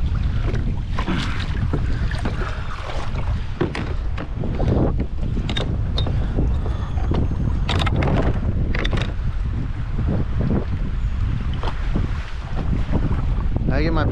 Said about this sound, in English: as you can see how windy and choppy it is over here